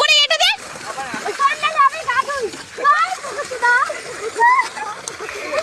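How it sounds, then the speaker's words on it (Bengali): Water splashing and flowing into a flooded farm field, a steady wet rush running throughout beneath excited talking and calls from several people close by. "আরে জলটা খুলে দিয়েছে"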